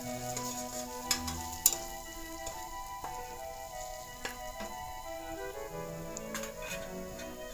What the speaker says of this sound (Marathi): अख्खे शेंगदाणे आहे, शेंगदाणे यामध्ये घालतीये. तेही थोडे तेलावर परतवून घ्यायचे.